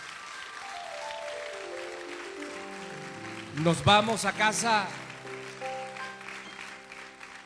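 Applause from a church congregation during a sermon rises briefly beneath a short spoken phrase, then fades, with a sustained musical tone lingering in the background.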